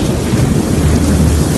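Thunder from an approaching storm rolls as a loud, continuous low rumble with a dense, hissing wash like wind and rain, steady throughout with no voices.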